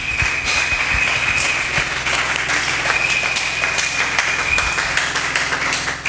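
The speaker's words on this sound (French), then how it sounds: "On acclame très fort notre Dieu." A church congregation claps and cheers loudly in praise to God during a sermon, a dense, continuous burst of hand claps with some individual sharp slaps, a sustained high tone running through much of it, then tapering at the end.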